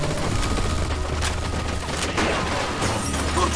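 Rapid, loud machine gun fire in Mafia II, a dense continuous burst of shots close by, with no voices over it.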